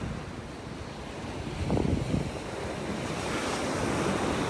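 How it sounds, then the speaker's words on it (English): Ocean waves wash onto a Gulf beach in North Naples, Florida, as a continuous rushing surf that swells once midway, with steady wind noise buffeting the microphone. "When these waves come up onto the beach, they're pretty much gonna sweep off all the shells."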